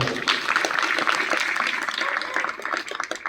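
An audience at a Marathi speaking event gives a short burst of hand clapping, moderately loud and fading toward the end.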